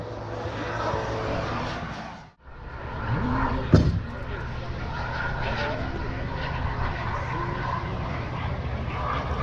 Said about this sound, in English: Right now, that yellow and white prop plane, a T-34 Mentor.